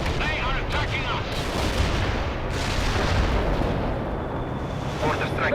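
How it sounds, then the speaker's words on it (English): Continuous heavy artillery and mortar fire rumbles from the World in Conflict battlefield, a dense, loud wash of booms and gunfire with no break, under faint background voices. "Mortar strike"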